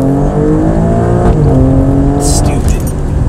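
An Alfa Romeo Stelvio Quadrifoglio accelerates hard during a race pass, its engine a loud, steady roar that rises in pitch, with a brief high hiss near the end and voices talking over it.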